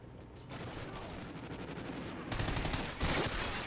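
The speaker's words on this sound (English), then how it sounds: "I've seen you coming up behind me shooting your pistol." Pistol fire and other gunfire in a Call of Duty: Ghosts multiplayer match, a dense, noisy barrage of shots that gets louder and sharper toward the end.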